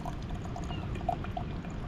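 Water trickles steadily from a 3 litre filter bag into a 1.5 litre bottle at a beach wild camp, a soft continuous pour close by with faint gurgles and no talking.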